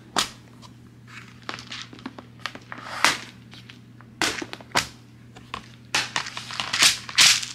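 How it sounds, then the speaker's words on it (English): Plastic pony beads clicking and rattling close up as they are sorted and handled for friendship bracelets, a scattered run of sharp little taps and crinkly rustles that grows busier near the end, with no voices. "That way you guys can enjoy some ASMR of the beads."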